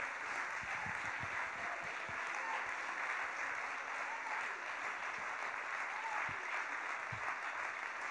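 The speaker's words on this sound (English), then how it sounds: "Clap your hands to him, will you?" A church congregation claps together in sustained, dense applause at a moderate distance, the steady patter continuing without a break.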